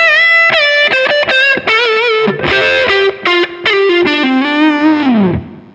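High-gain electric guitar played through a PRS HDRX 20 amp, picking distorted single notes up the neck in a melodic phrase with sustained, singing tones, loud and close with no talking.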